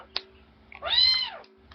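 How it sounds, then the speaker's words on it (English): A single clear cat meow, rising and falling and drawn out over about half a second, close and fairly loud, preceded by a brief click in an otherwise quiet room. "Do you hear this cat?"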